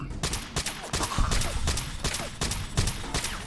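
Rapid bursts of gunfire crack repeatedly in Fallout: New Vegas, loud close shots coming in quick irregular volleys with a brief pause between clusters.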